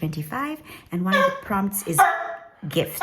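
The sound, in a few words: dog barking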